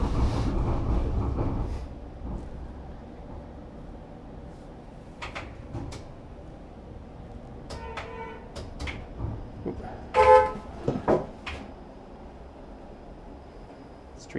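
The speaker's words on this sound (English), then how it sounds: "Streetcar honking at a streetcar." A Toronto streetcar on King West sounds its horn on a rainy day, with a few short honks rising over a low hum of street traffic and rail noise.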